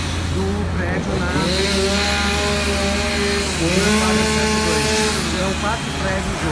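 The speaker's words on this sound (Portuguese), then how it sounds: "está com a motosserra ali cortando aquele mato" A chainsaw cuts overgrown brush behind abandoned buildings, a loud, steady engine drone that rises and falls in pitch as the saw works, with other motor noise in the background.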